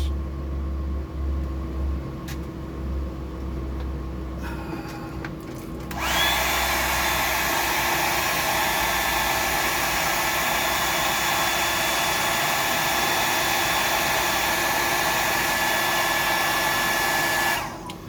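A hair dryer or similar blower starts up after a few seconds of low hum to dry a freshly tied red claw bug fly, then runs as a loud, steady, close whir until it cuts off at the end.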